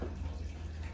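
Broth pours steadily into a roasting pan around a maple brown sugar seasoned turkey, a continuous soft splashing trickle close by with no voices.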